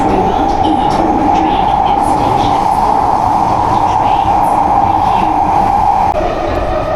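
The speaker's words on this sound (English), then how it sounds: "Train moving super smoothly and fast." A train runs smoothly and fast through an underground tunnel on the line from Singapore's Woodlands to Johor Bahru, Malaysia, giving a steady, loud rumble with a constant droning hum that holds evenly throughout.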